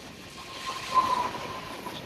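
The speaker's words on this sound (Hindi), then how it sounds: "ये मालगाड़ी वेट कर रही है।" Freight train on the tracks near Rani Kamlapati station in Bhopal, heard as a soft, steady rail rumble with a faint hiss and a thin tonal whine, fairly distant and without talk.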